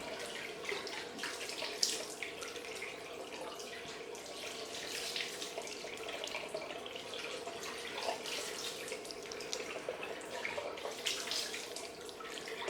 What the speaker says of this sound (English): Get some more water on.